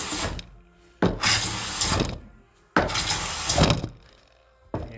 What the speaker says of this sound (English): I'm going to pull over the surface to remove the glue.